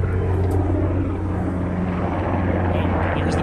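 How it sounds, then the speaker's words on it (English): A helicopter drones loudly and steadily overhead, its low rumbling engine noise constant throughout with no voices. "Here's the black helicopter coming to get us."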